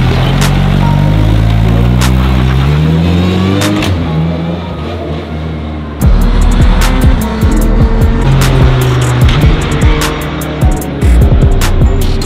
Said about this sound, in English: he is literally driving his BAC Mono home right now